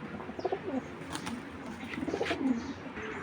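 Faint cooing of Pakistani Giribaz pigeons in two short bursts against a quiet, low room murmur.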